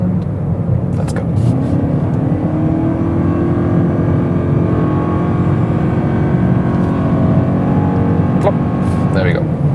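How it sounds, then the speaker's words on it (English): A 2020 Toyota Corolla hybrid with a CVT accelerates from 80 to 120 in sport mode. The engine drone holds at a steady, slowly rising pitch under loud road and wind noise, with a voice talking over it. "you maybe heard this is a typical CVT, the continuously variable transmission automatic acceleration"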